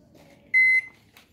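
A microwave oven with a shorted board, just plugged into the wall socket, gives one clear electronic beep lasting about a quarter second, close and loud over a quiet room.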